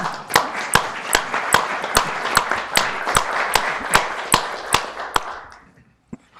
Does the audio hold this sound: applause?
yes